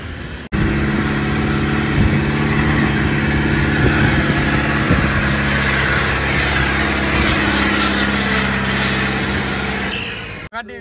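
A tractor engine runs loudly and steadily nearby for about ten seconds, with slight surges in pitch, then cuts off abruptly at the end.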